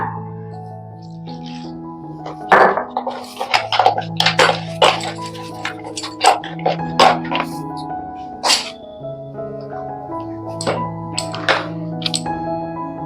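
Cake batter for an Oreo biscuit birthday cake being beaten in a bowl: irregular clinks and taps of a utensil against the bowl, some in quick bursts, over steady background music.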